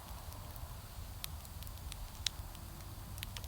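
A small outdoor bonfire crackles at night, faint snaps and pops scattered over a low steady background, close but quiet, with no talking.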